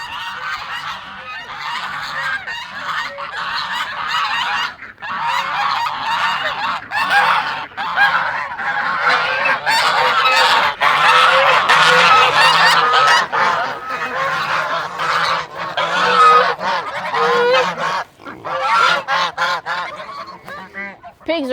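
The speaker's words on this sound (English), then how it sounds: "Chickens are waiting on me." A flock of hungry chickens waiting at morning feeding time clamors with loud, overlapping calls close by, almost without pause.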